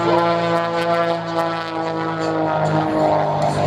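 A propeller-driven biplane flies a double hammerhead at a military airshow, its engine droning loud and steady with a harmonic buzz that shifts pitch slightly as it climbs and turns.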